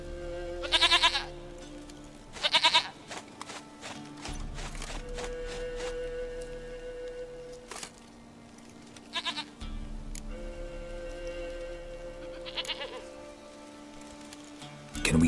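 Goat bleating in The Witcher 3, several wavering cries in short bursts spread across the stretch, set against steady low game ambience with a faint hum.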